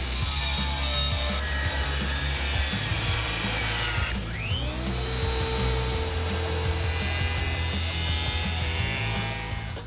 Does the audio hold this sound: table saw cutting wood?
yes